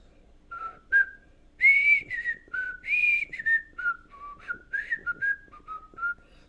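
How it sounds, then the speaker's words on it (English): Someone whistles a bright, wandering tune alone, with clear sustained notes and quick slides, close by and moderately loud with no talking over it. "I love whistling."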